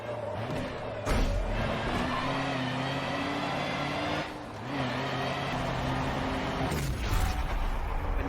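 Racing truck engines in the Forza Motorsport 7 video game hold a loud, steady roar, with the pitch rising and falling as they rev and shift, plus a few brief bursts.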